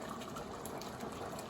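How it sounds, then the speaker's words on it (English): Cooked penne pasta being drained, a steady gushing pour of water that rushes continuously and fairly softly throughout, with no voices. "I'm gonna go ahead and drain it and then pour the pasta inside of the"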